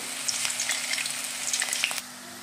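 Banana slices fry in hot oil for crisp chips, giving a close, steady bubbling sizzle with scattered crackles that eases off slightly near the end, with no talking.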